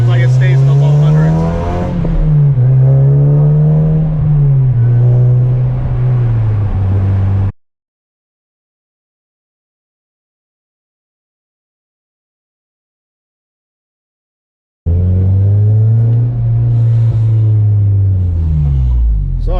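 A car engine fitted with a Mercury Racing aftercooler revs hard through a full-throttle pull, a loud droning note that rises in pitch, then cuts to several seconds of silence before the rev resumes.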